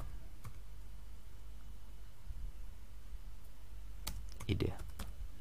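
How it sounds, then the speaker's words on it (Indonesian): Computer keyboard typing while inserting an image into a Quizizz interactive presentation: a quick burst of soft, close key clicks near the end, with a faint single tap earlier against quiet room noise. "Kita klik insert image, kemudian kita ketikkan di sini"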